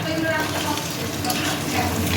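Boiled eggs fry in hot oil for a biryani, giving a steady, close, crackling sizzle throughout the brief moment.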